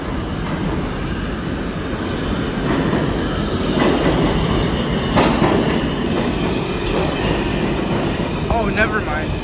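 A subway train curving out of DeKalb Avenue station in Brooklyn, loud rolling rumble with repeated high-pitched wheel squeals close by, running steadily throughout.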